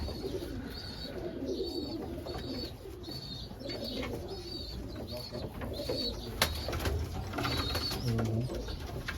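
Racing pigeons coo repeatedly in low, soft rolling calls, layered over a steady background hiss with a few faint chirps.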